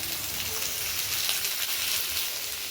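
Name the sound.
cooked ivy gourd frying with grated coconut in a pan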